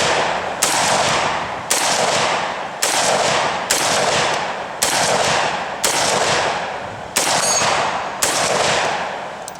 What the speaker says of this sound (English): the gun is firing